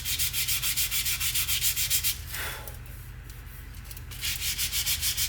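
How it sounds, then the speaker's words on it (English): Sandpaper rubs back and forth across a wooden gun stock in steady, rhythmic strokes, close and fairly loud, pausing briefly in the middle before the sanding resumes. "sanding on this stock"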